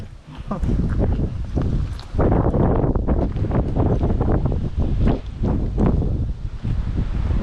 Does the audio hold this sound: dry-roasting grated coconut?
no